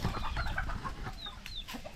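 Chickens in a farmyard give soft, quick clucks, faint and fairly distant over a low outdoor background.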